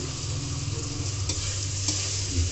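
Masala for cabbage dum aloo fries in a pan with onion and ginger-garlic paste, giving a continuous dense sizzle under steady stirring scrapes, close and moderately loud, without speech.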